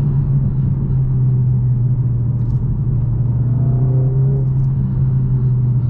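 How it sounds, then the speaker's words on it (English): A 2021 Mercedes-AMG CLA 45 Coupe with a 2-liter turbocharged inline-4 engine drones steadily from inside the cabin, a low constant hum with a slight rise in revs partway through. "I don't know if you guys can hear the feedback from the engine."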